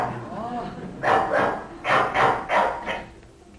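A border collie with emotional arousal issues barks close and loud, four sharp barks in quick rhythm after a brief whine, over a busy background.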